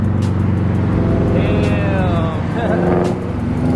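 A widebody Toyota 86 with a very loud exhaust drones and rasps close by, its engine rising and falling in pitch through a couple of revs without a break.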